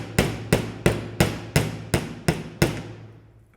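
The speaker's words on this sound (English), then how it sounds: "turn it over and now hammer it in the other direction" A hammer strikes jewellery wire seven times in a steady rhythm, each blow a sharp, close metallic tap with a short ringing decay, alone without talk.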